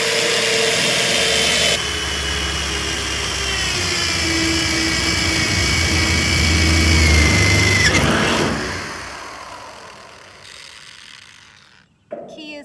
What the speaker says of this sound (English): Key is to stabilize your drill as you're going.